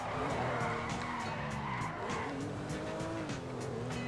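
Car in Grand Theft Auto V losing grip at high speed, a continuous loud tire squeal with wavering pitch over a steady engine roar, close and sustained.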